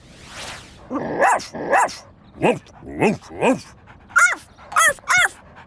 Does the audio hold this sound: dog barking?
yes